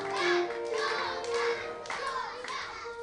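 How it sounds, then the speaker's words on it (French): Audience applauding at a church gathering, a short burst of hand claps mixed with a voice and chatter, fairly close and moderately loud. "On applaudit très fort, Chantal, merci."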